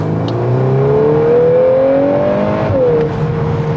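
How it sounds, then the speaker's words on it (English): A 2023 VW Golf R in race mode gives a steady, close exhaust drone that climbs in pitch as it accelerates, then drops sharply at a quick gear shift. "And you get a little bit more sound from the exhaust too."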